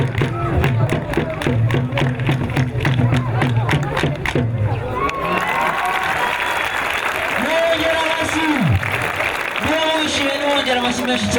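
An audience at a school Christmas celebration breaks into dense, rhythmic applause for about five seconds. Speech and crowd murmur then take over.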